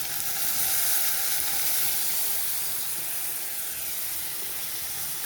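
Ground spices mixed in water hitting a hot pan with onion and tomato, giving a loud, bright, steady hiss of sizzling and steam that slowly eases over several seconds.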